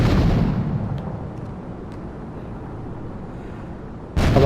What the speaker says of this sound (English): the hand grenades are a bit of wonky